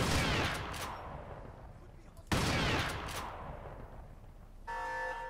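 Gunfire in the video game Crysis from a mounted gun, with two heavy bursts of shots that each fade into a long rumbling echo, followed by a sustained tonal horn-like blare near the end.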